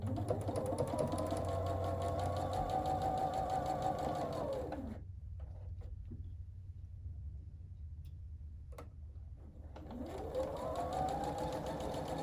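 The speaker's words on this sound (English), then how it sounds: "So I'm just going to sew that together, matching up my seams in the center." A sewing machine runs steadily for several seconds stitching quilt fabric seams together, pauses with faint handling clicks, then starts up again, close and loud with no talking.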